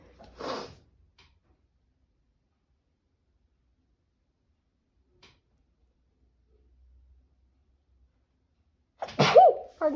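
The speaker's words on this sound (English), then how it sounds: "Oh, I'm going to sneeze. I am going to sneeze." A person sneezes sharply and close, then long near-silence follows, broken by a faint tick, before a second louder, throatier sneeze bursts out at the end.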